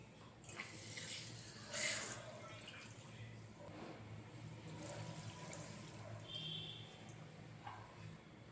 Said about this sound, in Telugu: ఒక రెండు కప్పులు వాటర్ కూడా వేసుకోవాలి ఇందులోని పప్పులోని